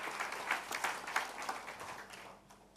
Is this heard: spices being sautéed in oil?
no